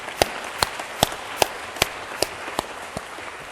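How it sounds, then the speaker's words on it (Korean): Claps at a children's national assembly sound as a thin, slow series of sharp, evenly spaced hand claps, about two or three per second, with no talking over them. "우리 모두 큰 박수로 격려해 주실"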